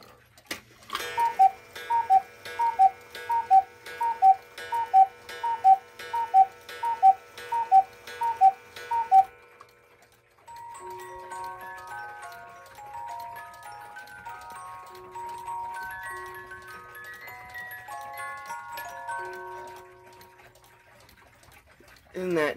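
A Swiss musical cuckoo clock's music box plays a tune: after a run of evenly spaced, bright chimes, a delicate plucked melody tinkles on alone, close and clear.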